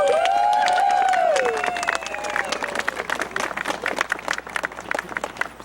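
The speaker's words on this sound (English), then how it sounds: "Let's give them a round of applause" A crowd applauds Louis and Ann Baldwin at a community celebration evening, clapping building after a brief tonal sound at the start and continuing as a scattered, fairly close burst of claps.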